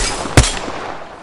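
Gunfire in the battle royale shooter Apex Legends, one sharp, loud shot cracking out over a hissy background, then fading into quiet.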